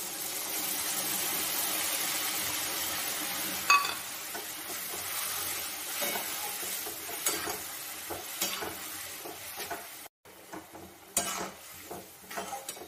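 Frying snails sizzle in a pan as mustard paste is poured in, a steady hiss of oil with scattered stirring scrapes and light clinks of a utensil against the pan, close and continuous, with no talk.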